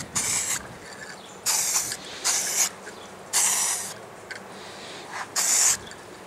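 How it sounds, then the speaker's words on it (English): Short hissing bursts of spray paint, automotive finish being applied to touch up a pre-painted metal bed frame, come in about five separate blasts with brief quiet gaps, close and fairly soft. "Now that you've finished spraying it, it shouldn't really show out too much."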